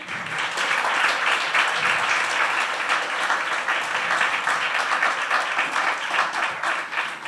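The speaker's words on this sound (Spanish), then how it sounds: "Un aplauso para el Señor." Church congregation applause during a service, a sustained, even clapping from many hands that carries on without pause, fairly full and close throughout.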